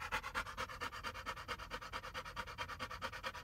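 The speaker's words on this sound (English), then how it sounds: "she's already panting and all worked up" A nervous dog pants rapidly inside a car on the way to TPLO knee surgery. The breathing is steady, rhythmic and close, with no talk.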